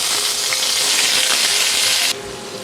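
Ground onion paste frying in a pan with potatoes, a loud dense crackling sizzle that runs steadily and then abruptly softens near the end, no talking.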